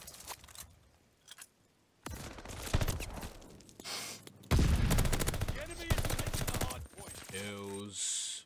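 Rapid bursts of automatic gunfire in a Vanguard ranked online shooter match, loud and close in uneven volleys, mixed with short breaths and game effects and ending in a rising electronic tone.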